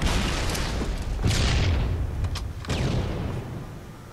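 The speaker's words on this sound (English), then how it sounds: "Grabs the BR, some sticky grenades. Throw some quite good grenades here through the gaps there." Sticky grenade explosions in Halo 3 team doubles play land as deep, heavy booms, two or three blasts in quick succession with rumbling tails over steady game noise.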